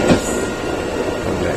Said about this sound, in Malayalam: മെമു ആണ്. ബാംഗ്ലൂരിന്റെ മെമു ട്രെയിനാണ്